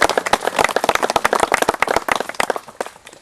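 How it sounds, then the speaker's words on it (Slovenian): Audience applause for an accordion player at the opening of a modernized road: a dense run of sharp, close handclaps at a lively, irregular rhythm, loud at first and thinning toward the end, with no talking over it. "Dajmo še en velik aplavz za Gašperja Marguča."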